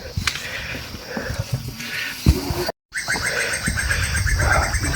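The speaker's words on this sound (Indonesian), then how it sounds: "Mantap suara burungnya." Birds chirp and call on a muddy, steep mountain trail on Gunung Luhur in Bogor, with scattered tweets over rustling and footsteps, broken by a brief dropout before a steadier run of calls.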